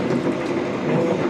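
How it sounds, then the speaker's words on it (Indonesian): Inside the dining car of the Jaka Tingkir New Generation passenger train on the Jakarta route, a loud, steady rumble of wheels running on rails fills the carriage, with continuous low clatter and no voices. "ini adalah gerbong makannya tadi, kereta api Jakarta Tingkir"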